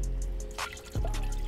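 Water pours into the base of a Shishabucks Cloud Micro hookah, a short close splash and trickle with a brief gurgling burst midway, alone without talk.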